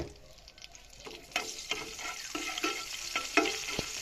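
Dried red chillies fry in hot soybean oil in a pan, a crackling sizzle with sharp pops and bursts of louder spattering as they hit the oil, close and fairly quiet.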